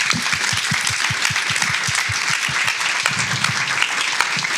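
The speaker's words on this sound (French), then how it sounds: "on peut les applaudir" Steady applause from the audience at a filmmaker's masterclass, many hands clapping densely and evenly throughout at a close, full level.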